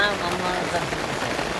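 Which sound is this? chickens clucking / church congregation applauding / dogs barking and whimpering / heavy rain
heavy rain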